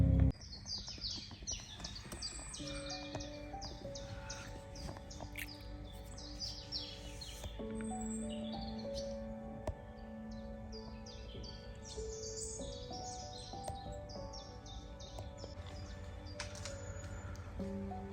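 Wild birds sing and chirp around a fishing pool, several overlapping calls and tweets scattered throughout over a steady low background hum, fairly faint and distant, with no talking.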